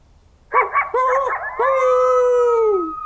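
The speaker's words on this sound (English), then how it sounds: "howls of coyotes, and you see a pack of them barreling towards you from around the corner" A single coyote yips a few times, then rises into a long wavering howl that slides down and fades, close and clear.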